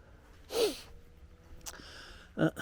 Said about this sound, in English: sorry about me breathing